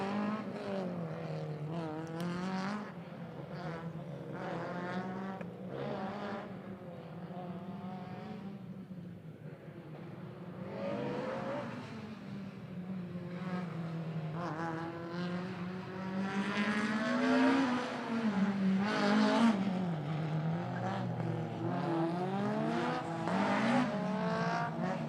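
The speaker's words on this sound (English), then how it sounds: "And right now on the start, very nice car, BMW." BMW race car at the start line of a European Autoslalom Championship run, its engine revving and climbing through repeated rising sweeps. The engine note stays loud and sustained and swells further near the end.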